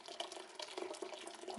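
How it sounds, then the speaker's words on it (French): Water pours steadily into a homemade laundry detergent mix, making a soft, continuous splashing trickle that is faint and close, with no talk. "maintenant je vais rajouter un 2e litre d'eau"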